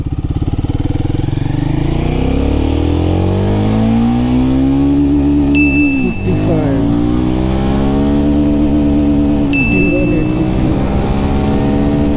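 A Royal Enfield Guerrilla 450 motorcycle is heard while riding, its engine droning steadily with rising and falling pitch through gear changes, close and loud, with brief clicks and beeps over the continuous hum.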